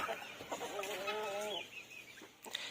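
A rooster near a silkie hen gives a short run of clucking calls, close by and fairly soft, with light outdoor background noise.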